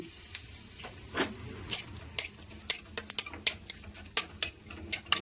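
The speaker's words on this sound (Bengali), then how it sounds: "কড়াইতে সর্ষের তেল দিয়ে দিচ্ছি ফোড়নে দিয়ে দিচ্ছি সাদা জিরে তিনটে শুকনো লঙ্কা দুটো তেজপাতা" Cumin seeds, dried red chilies and bay leaves crackling in hot mustard oil in a kadai, with a steady sizzle broken by sharp spitting pops and a few utensil taps, no voices.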